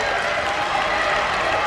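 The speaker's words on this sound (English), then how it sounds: "the crowd's starting to get into it" Track meet crowd roaring steadily as a runner enters the final lap of a mile race, a dense continuous wash of cheering and applause with no break.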